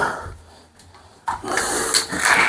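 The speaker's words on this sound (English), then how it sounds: "Drill." A power drill with a 3mm pilot bit bores into the wall for a shower screen, a sudden loud whirring burst starting after a quiet pause and continuing close by.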